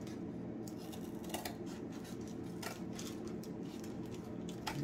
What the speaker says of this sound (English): I'm trying to just do it with these scissors.